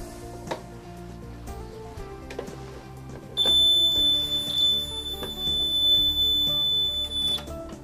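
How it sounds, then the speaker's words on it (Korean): Fire alarm control receiver buzzer sounding during an inspection test of an automatic fire detection system, a steady high-pitched electronic tone starting partway in and holding for several seconds over clicks and background noise. "수신기상의 부저음 확인 및 통화 감도 테스트를 실시합니다"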